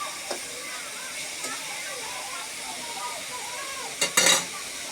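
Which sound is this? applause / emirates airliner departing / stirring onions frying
stirring onions frying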